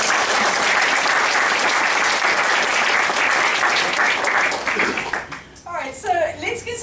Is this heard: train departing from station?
no